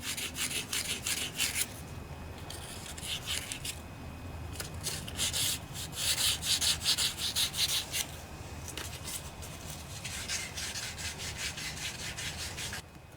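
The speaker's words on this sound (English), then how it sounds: "I have some sandpaper rolled up here. Poke that down inside the bearing." Rolled sandpaper scrubs inside a rusty bearing during restoration of a vintage Snapper ride-on mower with an 8 hp Briggs and Stratton engine, giving steady close rasping strokes in bursts with short pauses, no talk.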